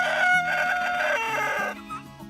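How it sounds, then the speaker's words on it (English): Barred Rock rooster crowing on a homestead: one loud, close, harsh cock-a-doodle-doo that trails off, with no talking over it. "Barred Rocks have a terrible crow"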